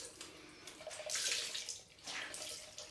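Cold water runs from a tap in short, faint bursts of splashing, with brief pauses between them as it is turned on and off during shaving.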